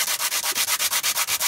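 Wood is hand-sanded along the grain on a small chair, about ten even back-and-forth rasping strokes in a steady rhythm, close and fairly loud with no talk.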